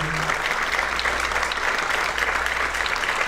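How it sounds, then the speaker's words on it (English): Steady applause from a large audience at a military hall of fame induction ceremony, continuous and fairly loud for the whole stretch, with no voices standing out. "let's have another big round of applause for each of our inductees here this evening"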